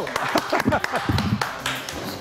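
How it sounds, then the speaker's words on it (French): Loud clapping from an audience, crisp and fairly close, a scattered run of claps mixed with voices. "on applaudit très fort Isabelle 2, bravo"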